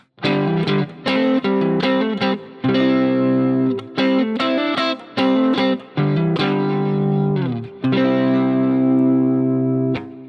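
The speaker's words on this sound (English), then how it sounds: "play the chord. Then mess around with all the notes from the shape" Electric guitar picks out notes around a chord shape in short phrases, some notes ringing and others cut off, with a slightly driven tone.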